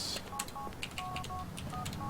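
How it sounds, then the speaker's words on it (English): Rapid phone dialing tones from a video game, a quick run of short beeps in uneven succession over a steady background hum. "So make another phone call to clear the queue"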